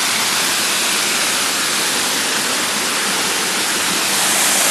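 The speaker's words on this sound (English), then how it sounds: "So this is now the waterfall that we're coming to." Waterfall near a cave temple, a dense, steady roar of rushing water that stays loud and unbroken from start to end, with no other sounds.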